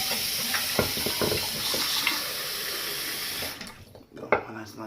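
Hot water runs steadily from a tap with a broad hiss, then shuts off, leaving a few clinks and drips; faint voice sounds come through briefly.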